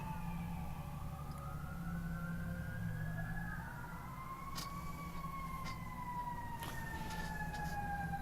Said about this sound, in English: Well, something's burning up, as you can hear with the sirens.